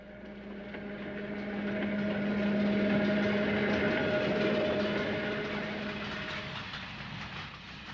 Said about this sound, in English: A good-sized train heads down grade